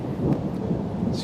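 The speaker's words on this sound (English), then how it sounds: "And there's some thunder going on now," Deep rolling thunder rumbles across the Swedish archipelago, a low, sustained roar filling the short stretch with a faint rustle on top and no talking.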